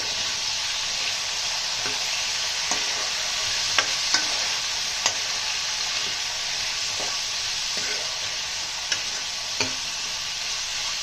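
Chopped vegetables for sambar rice sizzle steadily in a hot pan, a constant close frying hiss broken by occasional light clicks of stirring, with no voices.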